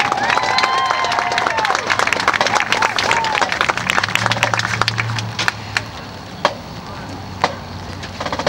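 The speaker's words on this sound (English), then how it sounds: "Let's give them a great round of applause as they leave the field." Outdoor crowd applause at a high school marching band competition as the band leaves the field, clapping loud at first then thinning into scattered claps and sharp knocks, with voices murmuring underneath.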